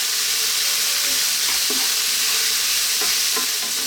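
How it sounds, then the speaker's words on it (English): Onions stir fry in a hot pan for curry, giving a loud continuous sizzle with occasional scraping stirs of a utensil against the pan, close and with no talk. "Stir frying it for about 3 or 4 minutes."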